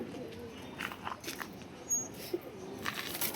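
A female racing pigeon coos in soft, low repeated calls, fairly close, with faint background noise and a brief flutter.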